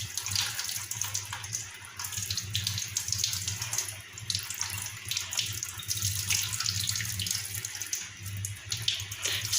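Water runs steadily from a tap as hair dye is rinsed off, making a loud, continuous close-up splash and hiss that stays unbroken throughout with no talking.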